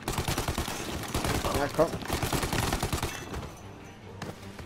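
Gunfire in the Mafia Remake video game, a dense burst of shots over the first three seconds that fades out, with someone speaking briefly over it.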